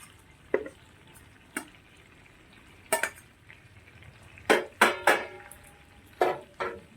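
A utensil scrapes and clacks in a pan as fried capsicum is stirred into chicken being cooked down, giving sharp irregular knocks, some in quick clusters, over a faint sizzle, close by.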